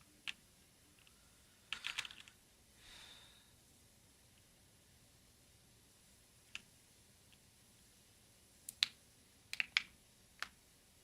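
Computer keyboard keys pressed in sparse, isolated taps and short bursts, with a brief clustered flurry near the start and scattered single clicks later, faint and close against a quiet background with no talking.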